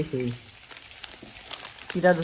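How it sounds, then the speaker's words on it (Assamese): Onions fry in a pan with a soft, continuous crackle, while brief bursts of voices cut in at the start and again near the end. "পিঁয়াজ ভাজি ল'লোঁ।"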